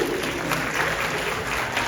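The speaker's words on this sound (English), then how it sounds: "Round of applause for Kid." Audience at a Halloween Horror Nights panel applauding, a brief continuous burst of clapping from the crowd at steady volume.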